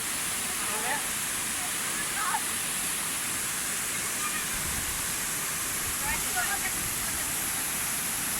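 A waterfall in Vieng Xay, Laos, gives a steady, dense roar of rushing water throughout. Faint voices can be heard under it.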